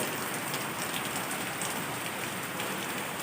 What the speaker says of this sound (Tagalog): Malas natin guys, umulan pa.